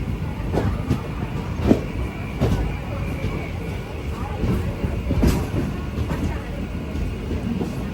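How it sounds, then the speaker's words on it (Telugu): A train running through a long curve on a Kurnool to Tirupati journey, with a steady rumble and rhythmic clacks from the wheels. Light rain is falling, and the sound holds at a fairly constant level. "ట్రైన్ లాంగ్ కర్వ్ తీసుకుంటుంది."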